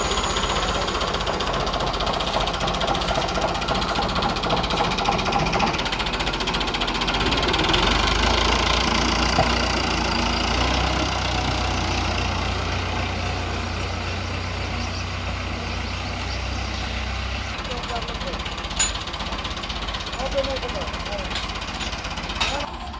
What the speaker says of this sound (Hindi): तो कज़न मेरा ये ट्रैक्टर वगैरह लेके आ गया।